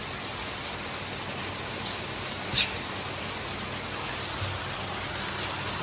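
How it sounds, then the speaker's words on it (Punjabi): Steady rain hiss in Italy fills the whole stretch, even and continuous, with one brief sharp tap or drip standing out midway. "ਬੜੇ ਦਿਨਾਂ ਬਾਅਦ ਬਾਈ ਮੀਂਹ ਆਇਆ ਓਏ"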